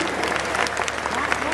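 An audience at a poetry recital claps, a dense, steady burst of applause filling the hall at close range, with voices mixed in under the clapping.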